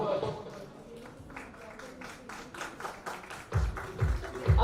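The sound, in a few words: audience applause at awards ceremony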